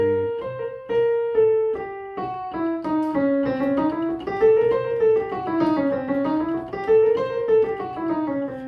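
A piano runs through a diminished scale, alternating whole and half steps, with clear separate notes rising and falling in an even rhythm, played alone and close.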